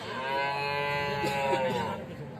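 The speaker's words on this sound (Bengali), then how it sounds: "এই যে দেখছি আমরা একটি গাভী সেই সাথে বাছুর" A Holstein Friesian dairy cow at a cattle market moos in a long, low, drawn-out call that fills the whole moment, close and fairly loud.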